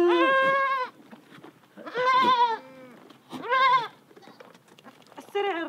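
Goats bleat in the desert near Petra, with four separate harmonic, wavering calls about a second long each, fairly close and clear over quiet background.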